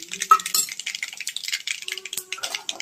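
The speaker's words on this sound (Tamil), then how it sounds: "கடுகு பொரியுது இப்போது கடுகு பொரிஞ்சதும்" Mustard seeds splutter in hot oil, scattered rapid crackles and pops with a few metallic clinks of a pan, fairly close.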